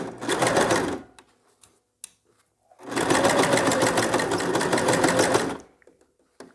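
A sewing machine stitches the back darts of a straight skirt in two sustained loud runs of rapid whirring, separated by a short pause with a few faint clicks, close up.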